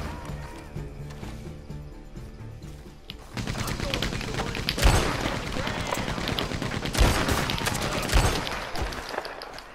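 Maxim gun firing in Red Dead Redemption 2 Online at an enemy hideout, a steady stream of rapid machine-gun shots with sharper louder bursts, heard amid game ambience after a quieter opening.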